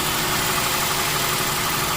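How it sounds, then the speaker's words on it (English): A 2008 Cadillac SRX with the 3.6L AWD engine, suffering a misfire, idles with a steady, even, fairly loud drone, close by and without voices. "But the engine is like really quiet."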